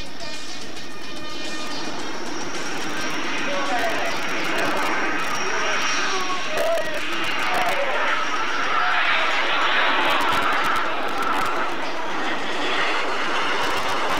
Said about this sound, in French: Voilà un des passages du solo à très basse altitude